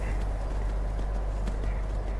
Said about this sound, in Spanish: Este caballo.